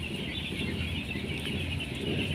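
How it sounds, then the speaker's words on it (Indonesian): A flock of 10-day-old broiler chicks in a poultry house keeps up a dense, continuous chorus of high peeping and cheeping, steady and moderately loud, with no voices. "Ini ayam umur 10 hari."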